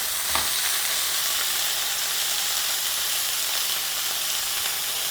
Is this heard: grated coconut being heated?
yes